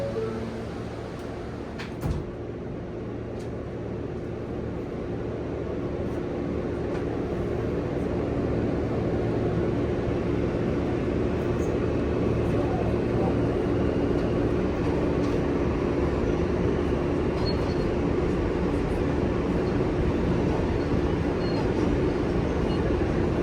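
An NYC Subway R train runs between Times Square and World Trade Center, giving a loud, steady rumble from inside the car that swells slightly after a few seconds and holds with faint rattles.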